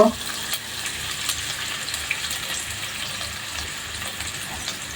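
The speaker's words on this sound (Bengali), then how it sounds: "এক চামচ আদা বাটা এক চামচ রসুন বাটা দিয়ে দিলাম খুব ভালো করে তেলের সাথে বেজে নিব" Onion, ginger and garlic paste sizzles in hot oil in a pan, with a steady, even crackle running through the whole clip and a few faint stirring scrapes on top.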